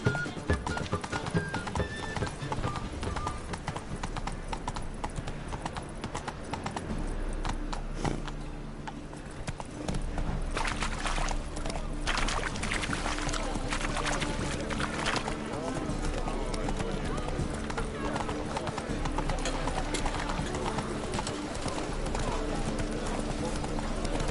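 Roach, a horse in The Witcher 3, clip-clops along at a steady gait with an occasional whinny, close and continuous beneath game music and someone talking.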